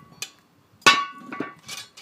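A heavy cast iron camp Dutch oven is set down on a bed of hot coals, landing with one loud metallic clank that rings briefly, with a lighter knock before it and a few softer clunks after.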